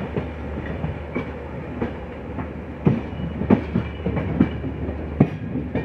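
A weekly express train runs on the tracks from Mysuru to Bengaluru, heard from inside a coach as a steady rumble with repeated clickety-clack wheel beats and joint knocks, loud and close, with no talk.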